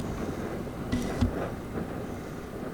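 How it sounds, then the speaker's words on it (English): Steady wind at Dumont Dunes buffets the microphone, a constant low rumble with a couple of brief gusty bursts. "windy out there."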